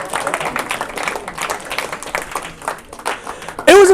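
A youth-night audience claps together, a dense patter of many hands sustained for several seconds before it fades out.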